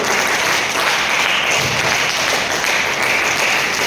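Steady, loud group applause at a summer karate camp closing ceremony, many hands clapping continuously in an even, unbroken wash.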